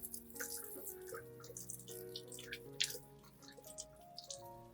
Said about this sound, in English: wash the plant gently under running water.